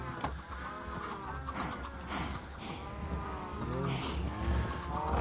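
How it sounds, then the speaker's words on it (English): Cows mooing in the video game Minecraft: drawn-out, low, bending moos repeat at a moderate level over a faint background, with a voice briefly present. "cows."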